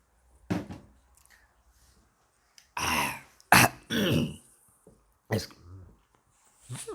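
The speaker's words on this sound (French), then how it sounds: "ça me donne beaucoup la toux" Several harsh coughs and throat-clearing bursts come in short separate fits, close and fairly loud, with quiet gaps between them.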